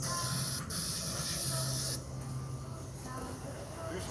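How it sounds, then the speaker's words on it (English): Lubricant sprayed from an aerosol can in a garage beside a 1958 Jeep CJ5, two steady close hissing bursts with a brief pause between them, then a quieter hiss that trails off. "I'll pull a little lubricant down."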